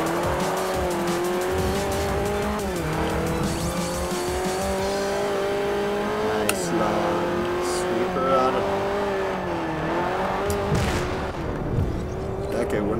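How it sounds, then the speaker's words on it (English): A rear-wheel-drive car in the Forza Motorsport 4 racing game drifts with long, loud wavering tire squeals over a straining engine, the pitch sliding up and down as it slides through corners. "It's because this car drifts, okay."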